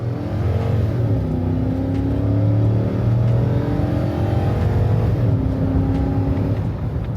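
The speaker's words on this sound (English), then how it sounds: "We'll give a little punch to this and let y'all hear it run out a few gears." A first-generation Toyota Sequoia V8 accelerating hard through several gears, engine tone rising and dropping at each shift, loud and close from inside the cabin, no talk.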